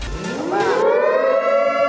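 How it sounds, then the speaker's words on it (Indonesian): A short siren wail signalling the start of a flash sale, sweeping upward in pitch and then holding a loud, steady tone. "sirine sudah berbunyi"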